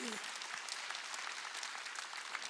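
A church congregation claps during a Sunday worship sermon at a Korean church, a fairly faint, steady patter of many hands sustained throughout with no break.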